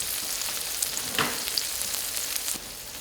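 Curry French toast fries in a pan over very low heat with a soft, steady sizzle and crackle, broken by a few faint clicks and one brief bump.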